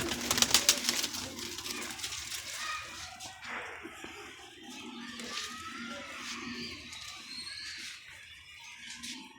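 Breeding pigeons give soft, repeated cooing calls close by, mixed with wing flutters and scattered sharp clicks, with a louder burst of activity at the start and quieter murmuring afterward.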